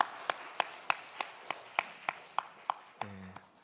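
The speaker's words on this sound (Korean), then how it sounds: "박수하겠습니다" A dozen evenly spaced sharp claps during a church service, roughly three per second, crisp and close, ending with a brief low tonal sound; no one speaks.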